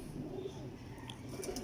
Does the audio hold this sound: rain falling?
no